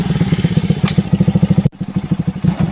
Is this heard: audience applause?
no